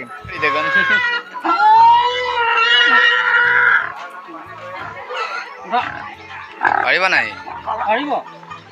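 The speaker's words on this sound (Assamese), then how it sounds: "গাহৰি কামুৰিব বিচাৰিছে" Pig grunting and squealing nearby in a rural Assamese home setting, in loud bursts of oinks and shrill squeals with short pauses, mixed with excited human voices talking.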